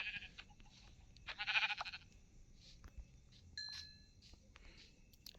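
Goats bleating in Minecraft during a survival playthrough, with a loud bleat near the middle among sparse game sounds and short tonal game effects, with no talk.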